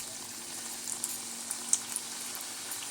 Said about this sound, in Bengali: এবার আমি এক এক করে তেলের মধ্যে পিঠেগুলো ছেড়ে দেব।